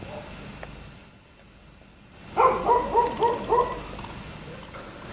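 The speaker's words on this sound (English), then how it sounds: "What you barking at?" A dog barking five quick times in a close, evenly spaced burst after a brief quiet gap, with a low background murmur.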